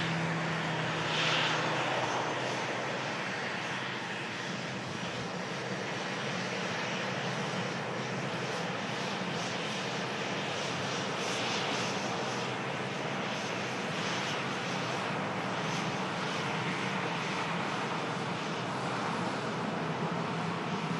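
A propeller aircraft taxiing past at Manchester Airport gives a constant, loud, broadband engine drone that holds steady for the whole stretch with no voices.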